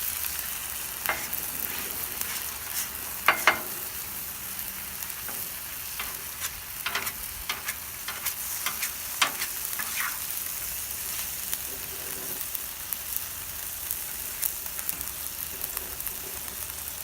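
Korean BBQ pork and vegetables stir-fry on a 36-inch Blackstone griddle, a steady soft sizzle broken by repeated clicks and scrapes of a spatula.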